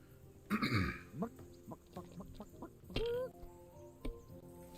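A person imitates chicken noises, giving clucking, squawking calls in short bursts with pauses between them.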